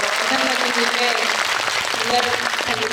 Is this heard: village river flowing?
no